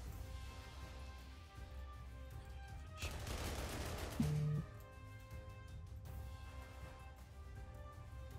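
Artillery fire in the strategy video game Panzer Corps II, a burst of crackling shots over a steady low backdrop of game music.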